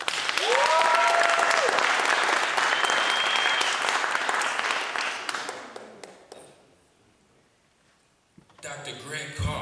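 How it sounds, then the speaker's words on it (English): An audience at a panel discussion claps and cheers loudly for several seconds with a few whistles, then the applause fades out before a voice starts speaking. "Give her a round of applause."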